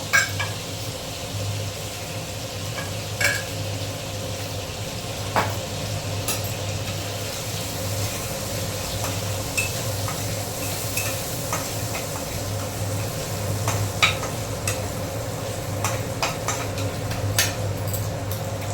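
A pinch of sugar sizzles in hot oil as it is stirred in a pan, heard as a constant near hiss with a low hum beneath and scattered faint ticks of the spoon, no voices.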